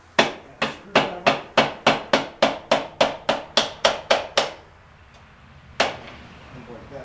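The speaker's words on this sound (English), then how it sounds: "Very large hammer." A very large hammer pounds a quick-disconnect coupling on the supercharger of a Thunderbird SC during an engine swap: about fourteen loud, evenly spaced metallic blows in quick succession, a pause, then one final strike.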